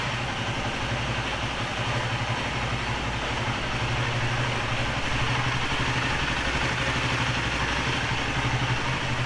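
A motorcycle engine idles steadily, heard from above the bike with sound-dampening material fitted around it; a continuous, even low rumble with no talk.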